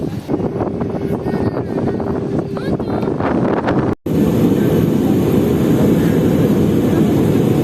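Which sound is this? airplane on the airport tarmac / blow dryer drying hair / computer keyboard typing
airplane on the airport tarmac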